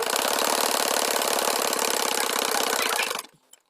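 Sewing machine stitching salwar fabric, a loud rapid steady mechanical chatter running close and continuous for about three seconds before stopping abruptly.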